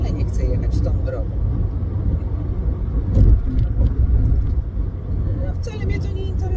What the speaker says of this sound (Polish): I teraz tak sobie jadę tą główną drogą, highwayem